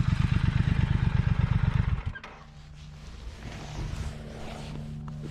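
A 2021 Triumph Speed Twin idles with a fast, steady throb for about two seconds, then cuts off abruptly, leaving quiet outdoor ambience with a faint low hum and some light clatter.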